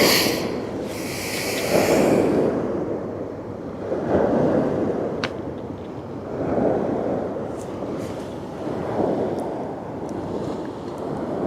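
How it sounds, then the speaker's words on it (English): Sea waves breaking on the Westerschelde shore in the Netherlands at sunset, a steady roar rising and falling in slow surges every couple of seconds, with light wind noise over the microphone. "You guys hear the waves crashing?"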